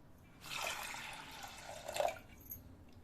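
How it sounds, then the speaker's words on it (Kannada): A short splash of water is poured into a metal pressure cooker holding soaked chana dal for about two seconds, close and fairly quiet, then it trails off. "ಸ್ವಲ್ಪ ನೀರು ಹಾಕೋತೀನಿ ನಾನು"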